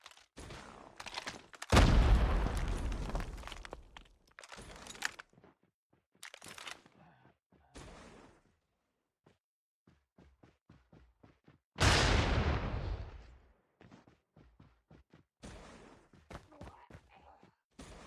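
A frag grenade in Call of Duty Mobile bursts loudly, followed by a second blast later, amid scattered gunfire and crunching battle noise in a match.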